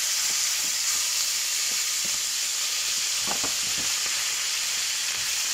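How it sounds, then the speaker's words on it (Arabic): Liver frying in hot oil at high heat, a steady close sizzle and hiss with a few soft stirring knocks, no voices. "بصوا الزيت اتقلح ازاي، وانا جايبه الكبده منزله"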